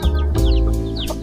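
A chicken clucks nearby in short, close repeated calls over a low steady background hum.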